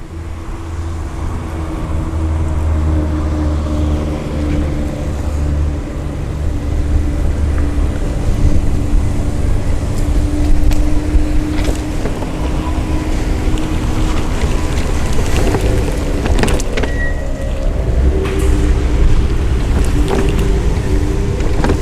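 Permobil M3 power wheelchair rolling across a grassy yard, a low steady motor whine and rumble sustained for about twenty seconds, with wind buffeting and occasional soft thumps and rustles from the ground.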